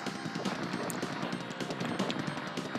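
Enemy energy satellites fire in the shoot-'em-up video game Strike Gunner S.T.G., giving a dense, continuous barrage of rapid synthetic shots and blasts that stays loud throughout.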